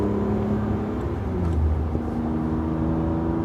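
BMW E36 M3 driven gently on its first drive, a steady interior engine hum with a slight swell in revs midway, heard from inside the cabin with no talking.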